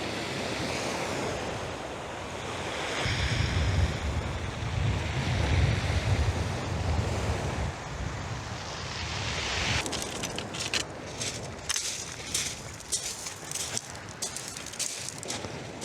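Waves wash onto the beach at Winchelsea with an onshore breeze, a steady rushing surf and wind noise that roughens and gusts in the second half, with no one talking.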